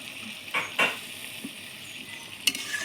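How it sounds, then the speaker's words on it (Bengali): Prawns in an Amul milk curry bubble quietly in a pan, a soft, faint simmer broken by a few brief clicks and stirring taps, heard alone without talk. "এই দুধেই মাছটা ফুটবে। তো 2 মিনিট ফুটবে সে।"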